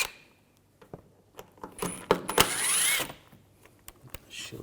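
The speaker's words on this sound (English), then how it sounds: "Take these screws out." A T30 socket backs screws out of the under-shield of a 2011-2018 Volkswagen Jetta 2.0L during radiator replacement. Close ratcheting clicks and metallic rattles build to a dense burst, then scattered taps follow.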